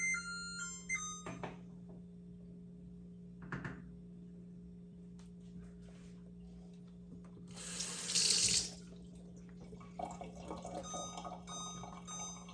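Kitchen tap water running over a cucumber being washed at a sink, a steady close splashing stream that swells louder midway, with small thunks of handling and no talk.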